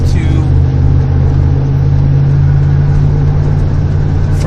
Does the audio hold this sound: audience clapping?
no